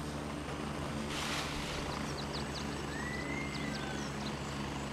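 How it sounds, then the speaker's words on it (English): An enemy helicopter in the video game Gray Zone Warfare, a steady, loud rotor drone and rushing wash that fills the whole stretch, with faint chirping ambience above it and no speech. "We got an enemy chopper coming in."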